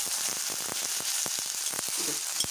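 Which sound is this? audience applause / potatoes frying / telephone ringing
potatoes frying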